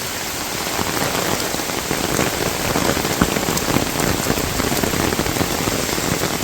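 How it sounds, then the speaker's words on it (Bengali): Heavy rain pours down on a village, a dense, constant hiss of drops striking surfaces close by, steady and loud throughout with no voices. "খুব বৃষ্টি"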